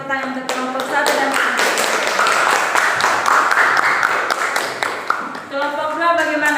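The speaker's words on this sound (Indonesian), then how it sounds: "berikan tepuk tangan untuk kelompok 1 dan" A classroom of students applauds for group 1, with dense, fairly loud clapping from many hands sustained for several seconds while a teacher's voice talks at the start and end.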